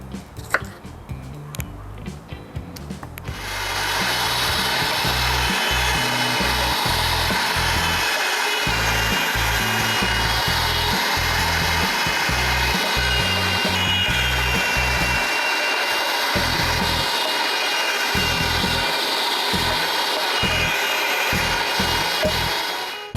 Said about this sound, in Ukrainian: беру іншу миску і продовжую подрібнювати решту овочів